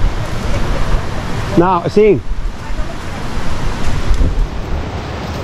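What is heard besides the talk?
water flowing in a creek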